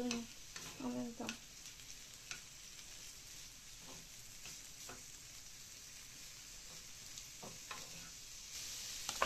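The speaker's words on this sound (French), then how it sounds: "Ça va fondre et ça va servir d'huile pour cuire les oignons en même temps." Onions cooking in the melted fat of lardons in a pan, a soft continuous sizzle with occasional stirring scrapes and taps, fairly quiet and close.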